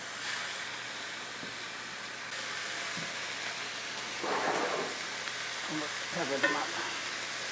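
Oblong grass-fed lamb burger patties sizzle in a hot pan with lard, a steady, faint frying hiss with a few louder crackling bursts and no talking.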